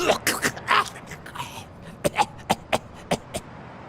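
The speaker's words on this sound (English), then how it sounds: "You've got one nasty cough." A string of short, sharp coughs in Blacksad: Under the Skin, several in quick succession with brief gaps, fairly close and moderately loud, after some rough throaty noises.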